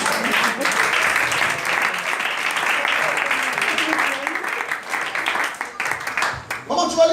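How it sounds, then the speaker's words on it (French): A church congregation breaks into sustained applause during a French-language worship service, dense continuous clapping filling the space with voices mixed in, easing slightly near the end. "Acclamons le Seigneur."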